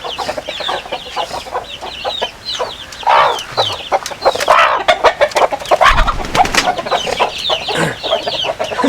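Black Australorp chickens newly added to a breeding flock cluck and squawk busily, a dense run of overlapping calls close by with no talking.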